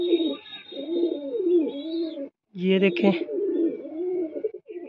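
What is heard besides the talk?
female pigeon cooing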